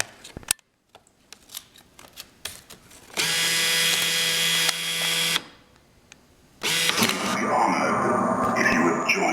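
A Mars bill acceptor, freshly repaired with a new capacitor, draws in a dollar bill with a steady mechanical whir of its motor, stopping and then whirring again, after a few scattered clicks and taps.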